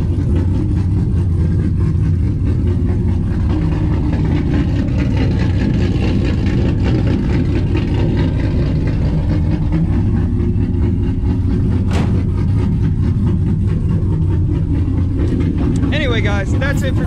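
Ram 1500 pickup truck engine idling with its exhaust switched to loud mode, a heavy, steady low rumble filling the whole stretch, close and loud, with a faint brief ticking near the end.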